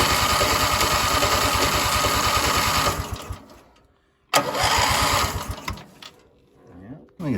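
A Lawn Chief tractor's engine cranking with a fast, even mechanical chug, stopping, then turning over again in a second loud burst that fades out, close up.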